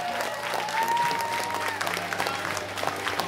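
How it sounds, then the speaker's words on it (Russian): Audience applauding at a rooftop acoustic rock concert, a steady wash of clapping over a low sustained instrument tone, with a faint whistle-like note early on. "Давайте его тоже похлопаем."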